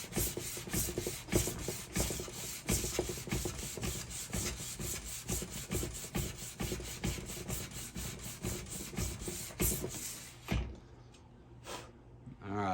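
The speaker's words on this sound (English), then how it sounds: "I still have probably 30 minutes on that of sanding" A knife blade is worked with an Orion Knifeworks sanding stick in quick, rhythmic back-and-forth rasping strokes that run steadily for about ten seconds before stopping, followed by a few quieter scrapes.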